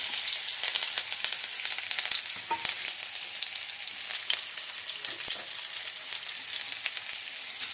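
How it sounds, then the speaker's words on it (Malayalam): Chopped shallots and curry leaves fry in hot oil after mustard seeds have popped, the start of a chicken curry; a close, continuous crackling sizzle with small sharp pops runs the whole time and no one speaks. "ഇനി നമുക്കിതിലേക്ക് ചുവന്നുള്ളി അരിഞ്ഞതും കറിവേപ്പിലയും കൂടെ ഇട്ട് പഴക്കാം"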